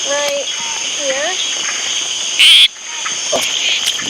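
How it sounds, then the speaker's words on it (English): Hourglass frogs call at night in a Costa Rican rainforest, short chirping croaks repeating close by over a constant insect hum, with a brief loud burst partway through. "There are hourglass frogs almost everywhere."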